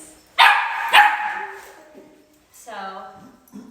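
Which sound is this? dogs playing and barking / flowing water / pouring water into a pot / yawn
dogs playing and barking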